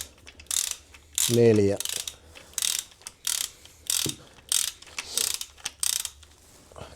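A ratchet clicks in quick bursts while turning bolts on a car gearbox being removed in freezing weather, with repeated sharp rasping strokes, a short metallic clunk, and a brief spoken word.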